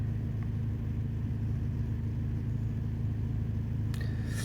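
Peugeot 208 car engine idling: a steady low hum with a faint regular pulse, unchanging throughout, plus a brief light click near the end.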